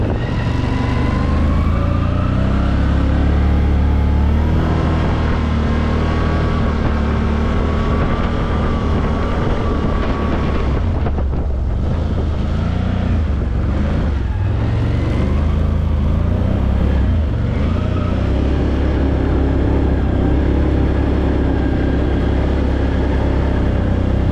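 A 2022 Can-Am Outlander 850 Max XT ATV drives in two-wheel drive along a washed-out track, its loud, close engine droning steadily with rising and falling pitch and a brief dip partway through; no one speaks.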